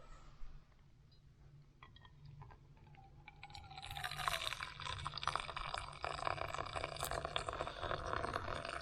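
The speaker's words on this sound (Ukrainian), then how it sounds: "Наливаю." Beer mulled wine pours into a mug, a quiet clink and trickle at first, then a steady, close liquid stream filling the vessel for several seconds.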